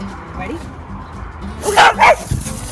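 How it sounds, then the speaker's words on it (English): A dog barks twice in quick succession, close and loud, after a stretch of low murmuring voices, with people talking around it. "Oh my God, he did a double bark."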